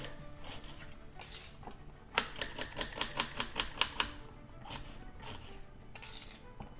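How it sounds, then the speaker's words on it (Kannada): A knife chops onions and tomatoes finely on a board for chicken sambar, the quick rhythmic strikes bunching into a dense burst in the middle with scattered single cuts before and after, close and clear with no talking. "2 ಈರುಳ್ಳಿ, 2 ಟೊಮ್ಯಾಟೊ ಕಟ್ ಮಾಡ್ಕೊಳ್ಳೋಣ. ಫೈನಾಗಿ ಕಟ್ ಮಾಡ್ಕೊಳ್ಳಿ."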